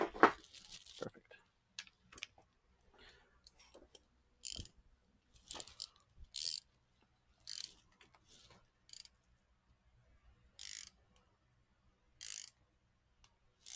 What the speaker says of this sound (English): And I'll take the hand ratchet this time.